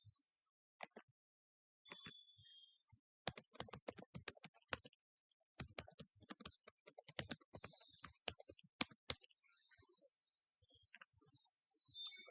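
Keys on a computer keyboard are tapped in quick, uneven bursts, with a few short pauses between runs of clicks. The typing is close and fairly quiet, and no voice is heard.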